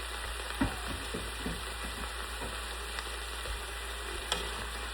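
Potatoes and carrots fry in a pot for beef stew, a steady close sizzle with occasional stirring clicks and scrapes and no talking.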